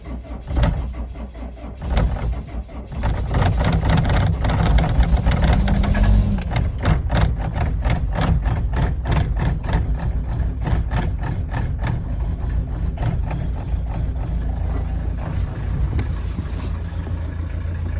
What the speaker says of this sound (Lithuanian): Dar variklis šaltas.